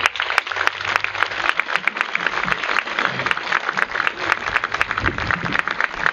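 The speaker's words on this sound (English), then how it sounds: "Ladies and gentlemen, big round of applause." Crowd applause at a softball opening ceremony honouring provincial pioneers of the sport, a continuous patter of many clapping hands with sharper individual claps standing out, steady and fairly loud for several seconds.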